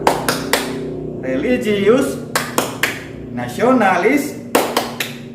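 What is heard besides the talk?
rhythmic clapping of the tepuk PPK clapping chant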